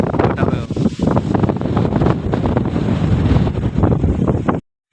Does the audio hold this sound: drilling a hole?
no